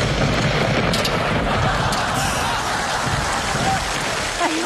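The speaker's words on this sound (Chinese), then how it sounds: "外边下那么大雨你不知道啊？" Heavy rain pours outside in a steady, loud, unbroken hiss, with people speaking over the downpour.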